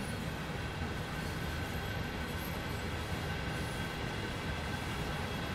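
An ICE 3 high-speed train runs on the Dresden–Riesa line in Train Sim World 2, a steady rolling rumble of wheels and motors with a faint high whine, continuous and even throughout.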